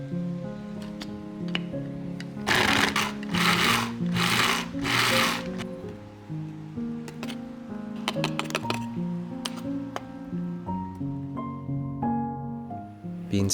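A blender whirs in several short grinding bursts, grinding toasted rice into powder, over soft background music, then stops while the music continues.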